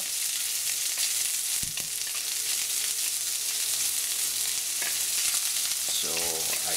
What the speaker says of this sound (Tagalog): Lulutuin lang natin itong bawang at sibuyas ng ilang segundo.